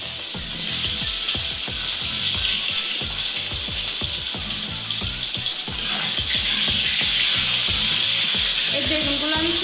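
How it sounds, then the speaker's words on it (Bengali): Eggplant pieces frying in hot oil in a home kitchen, a loud, steady sizzle with crackling pops and spoon scrapes throughout, close up. "তুলে নিয়ে এই তেলের মধ্যে ভেজে নিচ্ছি কিছু বেগুন।"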